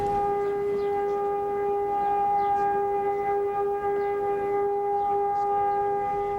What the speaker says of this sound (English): Israelis stood in silence for 2 minutes as sirens wailed in remembrance